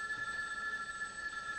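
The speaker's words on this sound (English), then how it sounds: "Is that the phone?" A telephone rings indoors in a 1960s comedy scene, a steady electric bell trill sounding continuously throughout, fairly faint against quiet room tone, with no talking.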